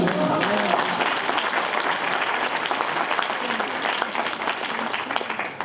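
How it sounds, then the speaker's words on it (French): Church congregation applauding during a French-language service, steady dense clapping from a large crowd that fills the whole stretch at full volume with some voices mixed in. "Applaudissez le Seigneur"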